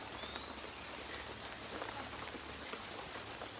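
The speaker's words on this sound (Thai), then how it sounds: "ฝนตกก็ไม่เว้นนะคะ" Steady rain falls continuously, a dense even hiss of drops on surfaces with no pauses.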